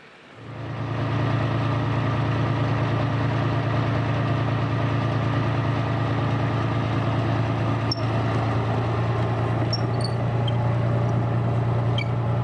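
A tracked vehicle's engine idles loudly and steadily with a deep, even drone, joined near the end by a few faint high clicks and metallic ticks; no one speaks.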